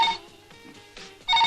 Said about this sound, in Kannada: ಫೋನ್ ಯಾರ್ದು ಅಂತ ನೋಡಿ.